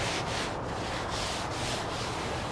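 Oil is rubbed by hand across a flat-top griddle surface during seasoning, a steady, continuous close-up scrubbing hiss with faint rhythmic strokes and no talk.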